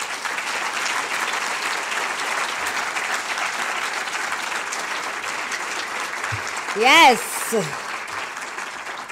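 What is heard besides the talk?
audience applause for young filmmakers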